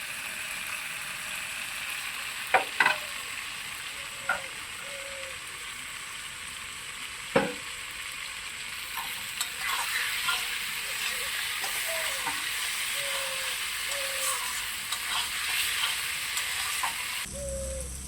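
Salted potatoes sauté in a pan for an egg and potato curry, a continuous hissing sizzle close by, punctuated by sharp spatula clicks and scrapes as they are stirred.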